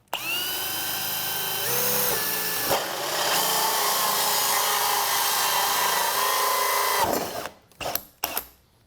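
A power drill whirs steadily as the bit bores through wood for about seven seconds, then winds down with a few short clunks and taps.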